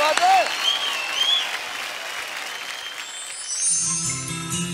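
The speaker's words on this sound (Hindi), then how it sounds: "जैकी सर के लिए एक बार तालियां हो जाए।" Studio audience on a televised singing show applauding for Jackie, sustained clapping under talk, with music coming in toward the end.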